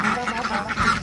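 A crested duck quacks repeatedly in quick nasal bursts, close and fairly loud, with a faint murmur of people in the background.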